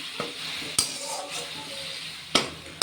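Spice paste frying in a pan with a splash of water, stirred with a few sharp utensil knocks against the pan over a soft continuous sizzle, close by.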